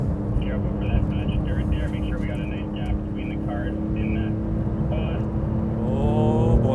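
A Porsche 911 GT2 RS, a 700-horsepower car, runs hard on a racetrack with a loud, steady engine drone that fills the whole passage, and a voice speaks over it throughout.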